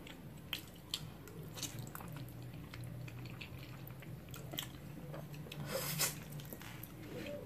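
Close, wet chewing and biting of Asian market food such as kimchi, with repeated squishy, crunchy mouth noises at an uneven pace and no talk.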